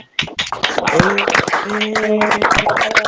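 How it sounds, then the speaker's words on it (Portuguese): An audience claps together on a count of five for a professor, giving a brisk burst of many hands clapping with sharp, rapid taps throughout, while a voice talks over the applause. "a gente vai fazer aqui uma salva de palmas pro professor Tiago"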